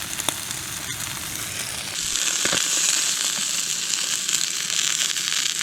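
Trout skin frying in a pan on a backpacking trip, a steady hiss of oil that swells louder and brighter partway through as the heat rises, close and continuous.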